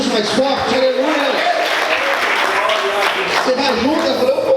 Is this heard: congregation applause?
yes